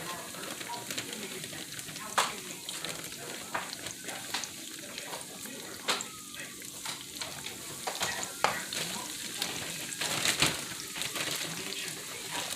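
Popcorn shrimp frying in hot oil for a copycat Longhorn Wild West shrimp, a continuous bubbling sizzle with scattered sharp crackles and pops, moderately loud and steady throughout.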